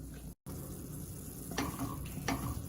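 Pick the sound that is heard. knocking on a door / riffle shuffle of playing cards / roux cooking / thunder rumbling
roux cooking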